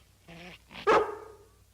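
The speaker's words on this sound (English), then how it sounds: "Show them how you growled at us, Lassie." A cartoon collie gives a short low growl that breaks into one loud, sharp bark, close and clear with nothing else over it.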